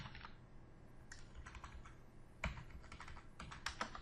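Computer keyboard keys tapped in quick irregular bursts while entering text into a library patron query template, fairly faint and close with a couple of sharper key strikes.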